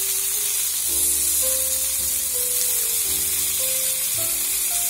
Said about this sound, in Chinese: 最后把侧面也煎一下。